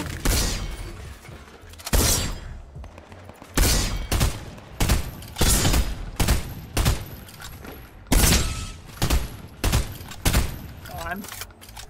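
Fortnite gunfire, a series of sharp, loud shots and bursts coming in irregular clusters roughly every second, with quieter gaps between and faint game sounds underneath.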